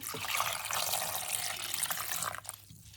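Steady splashing water pours continuously into a small pot of tomatillos for a few seconds, a bright hissing rush that tapers off near the end.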